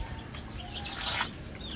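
Chickens cluck in a poultry coop, with a burst of clucking and possible wing movement over a steady low background rumble.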